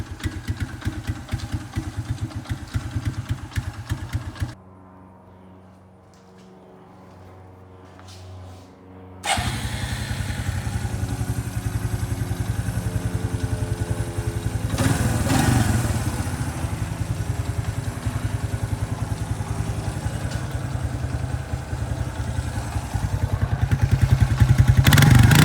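A Suzuki Quadrunner 250 ATV with gas in the crankcase and a shifting fault runs loud and close, its engine cutting out into near silence for a few seconds and then roaring back with a steady, rough idle that swells louder toward the end.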